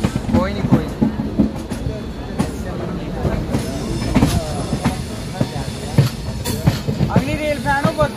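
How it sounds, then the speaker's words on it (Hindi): The Hemkunt Express train rolls around a curve, with steady rumbling, rhythmic clickety-clack from the wheels and squealing on the bend, heard from on board with people talking over it. "अपनी ट्रेन देखिए कर्व बहुत खतरनाक दे रही है"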